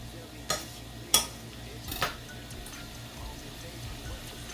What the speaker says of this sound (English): I'm gonna let this simmer for just a second